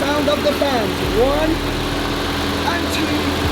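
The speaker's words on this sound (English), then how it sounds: "That is the sound of the fans." Car radiator cooling fans whirring with a steady engine-like drone on a damaged budget rebuild bought from Copart, close by, with faint whistling tones over the hum.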